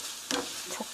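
A spoon stirs and scrapes through sizzling eggplant and pepper in a hot pan, seasoned with ground black pepper, in one short stirring stroke over a steady frying hiss.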